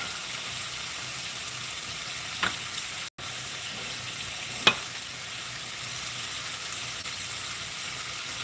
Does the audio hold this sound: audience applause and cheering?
no